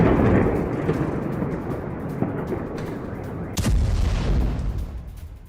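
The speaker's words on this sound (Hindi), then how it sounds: "रात भर यूक्रेन पर रूस ने बमबारी की है और रूसी हमलों से ज़ेपोरोजिया भी दहल गया।" Russian bombardment in Zaporizhzhia, Ukraine, heard as a heavy rumbling blast. A second sharp boom follows partway through, with a rolling low roar fading afterward and no voices.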